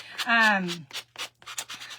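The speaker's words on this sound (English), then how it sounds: "What I'm doing, I'm just taking a sanding sponge." Short, brisk rubbing strokes of a sanding sponge on a surface, repeated in a quick irregular rhythm, close up and fairly loud.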